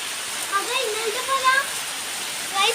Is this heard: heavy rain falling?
yes